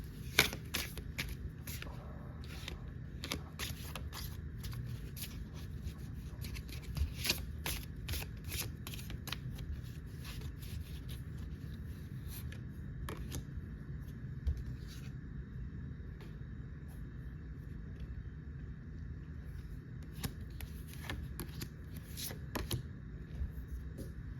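Oracle cards shuffled by hand, producing repeated soft riffling flutters and taps in an irregular rhythm, close and quiet throughout.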